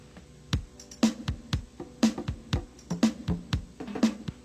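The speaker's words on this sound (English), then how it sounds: "you have a very unusual heartbeat" An unusual heartbeat thumps in a steady repeating pattern, each beat a sharp low double pulse about once per second, close and alone without any talk.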